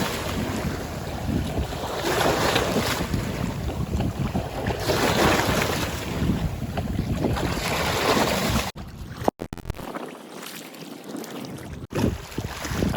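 Wind buffets the microphone at sea as waves from a passing fishing boat wash and slosh nearby, a steady rushing swell with brief handling knocks near the end.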